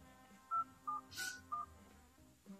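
A quick run of four or five short telephone dialing tones, each a clean beep, plays in the video game Stick It To The Man over a soft background hum.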